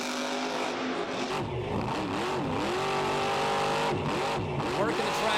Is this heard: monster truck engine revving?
yes